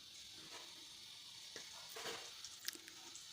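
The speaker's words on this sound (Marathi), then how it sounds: "एक एक करून सगळे मंचुरियन मी यात टाकून घेते" Manchurian balls fry in hot oil in a kadhai on a medium flame, giving a faint, steady sizzling hiss with a few small pops and crackles as more pieces drop in.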